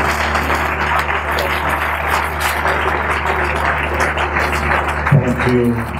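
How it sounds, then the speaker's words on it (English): A conference audience applauding after an inspiring speech, a dense sustained wash of clapping from many hands that continues steadily throughout. "So round of applause."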